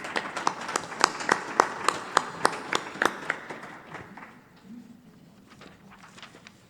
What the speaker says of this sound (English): Can we have a round of applause for appreciation for these guys?